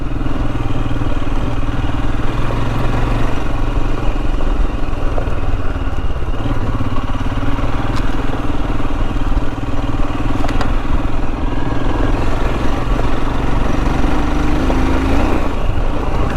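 A Royal Enfield Himalayan motorcycle rides a green lane on the Trans Euro Trail in Cornwall, its engine thrumming loud and steady throughout with rough, continuous clatter from the uneven track.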